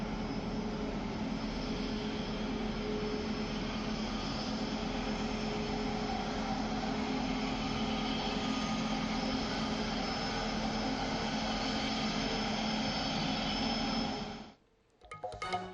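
An IndiGo passenger jet at Mopa airport in North Goa gives a steady, loud, broadband engine roar that holds evenly throughout and then drops away abruptly near the end.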